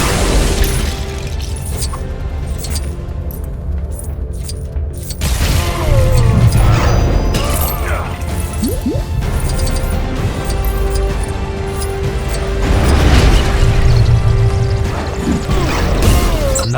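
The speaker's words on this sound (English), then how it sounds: "Another fiery explosion with more of Zod's men trying to hunt me down." Dense, loud game action from LEGO Batman 3: a fiery explosion among continuous crashes, booms and clattering effects over a steady rumbling background, busy and sustained throughout.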